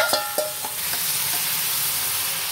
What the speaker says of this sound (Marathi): हा बघा, हा त्याच्यात खिमा टाकूया.